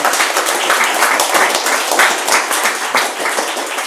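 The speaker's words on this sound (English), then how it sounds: "round of applause for that," Steady, full applause from an audience at a live conversation event with a four-time Ironman world champion, a bright dense patter of many hands clapping close by for the whole stretch.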